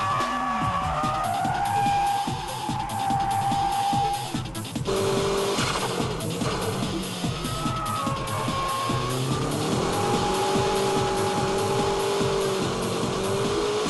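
A drift car driven by Tsuchiya slides with its tires skidding and squealing in long, wavering tones over a loud, continuous engine roar throughout.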